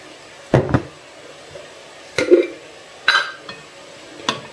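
Four separate clanks and scrapes of a utensil against a pot of plum juice, spaced irregularly with quiet gaps between them, close by and moderately loud.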